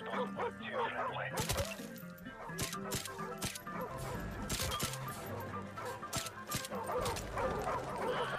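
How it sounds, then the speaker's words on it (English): A wild dog in Call of Duty 4 barks in loud, sharp, repeated yaps with whimpers and crashing thuds mixed in, close by, while voices talk throughout. "It's a wild dog."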